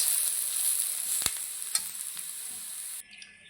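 Radish pieces frying in a pan give a steady, close sizzle with a few sharp stirring clicks, and the sound drops off suddenly near the end.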